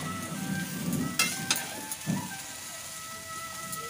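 Salt and turmeric are mixed into a sizzling pan, a soft continuous frying hiss broken by a few light scraping and tapping knocks of the spatula, close and moderately quiet.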